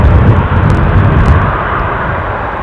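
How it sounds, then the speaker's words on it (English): An Air France Embraer 190 jet gives a close, loud, low engine roar with a dense rumble that fades slightly over a few seconds. "Air France look like they are also in the parish with their Embraer 190."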